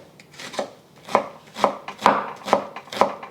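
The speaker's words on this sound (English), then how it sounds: "I am using half of an onion that I'm going to slice up and chop" A knife chops half an onion on a board: six or so crisp, evenly spaced chops about half a second apart, close and clear with no talk.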